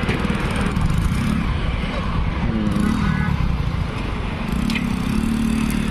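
A two-wheeler fitted with a 5x4 bike trolley runs its engine steadily as it reverses and moves forward, a continuous loud motor drone with outdoor noise and faint voices in the background.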